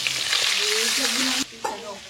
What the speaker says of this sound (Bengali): তো দেখো চিকেনগুলো এভাবে আমি লাল লাল করে ভেজে নিচ্ছি